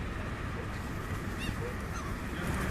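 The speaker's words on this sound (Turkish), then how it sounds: "bir Rus beyefendi kuşlara, martılara yiyecek veriyor" Gulls calling at Helsinki harbour as a man feeds them, a few faint, brief cries rising over a steady, noisy background of wind and water.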